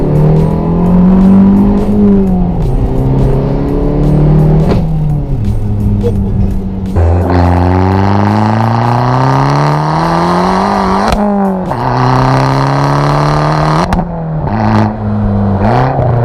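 Modified Abarth 1.4 turbo revving loudly up close, engine note rising and falling through several sharp blips with crackling exhaust pops between revs, with no talk.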